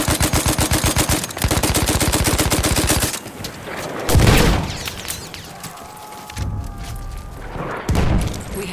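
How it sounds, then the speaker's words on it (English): Rapid machine gun fire rattles in a long, loud, evenly pulsed burst during Battlefield 1 Conquest Assault gameplay, followed by heavy explosive booms and scattered shots. "Enemy machine gun."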